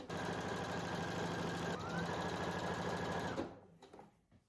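A sewing machine stitches quilt pillow pieces in a loud, fast, steady mechanical whir close by, then stops abruptly near the end, leaving a few faint handling clicks.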